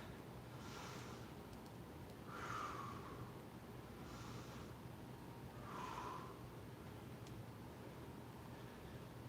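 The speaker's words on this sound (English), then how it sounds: "Big, deep breaths." Two slow, deep breaths taken while resting between exercises in an at-home strength and conditioning workout, each a soft airy inhale-exhale over a constant low background hum.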